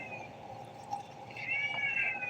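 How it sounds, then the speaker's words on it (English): A cat meows softly twice, a short call followed by a longer rising one, after a meal of tuna and chicken, heard over a quiet room background. "the one who's meowing"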